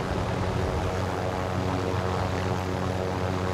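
Helicopter in a video game hovering and descending to land, a steady loud rotor and engine drone running throughout with no pauses.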